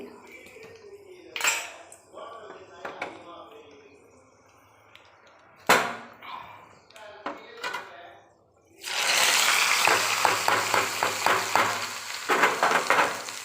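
Ghee poured into a hot pan of sweet milk pongal with fried cashews sets off a loud, steady sizzle with crackling pops. It follows a stretch of talk and carries on alone to the end.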